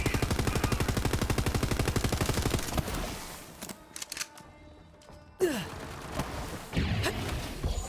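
Rapid, evenly spaced shotgun blasts fire in a steady stream in Borderlands 3, loud and close for nearly three seconds, then give way to scattered impacts, sparse clatter and gaming sounds.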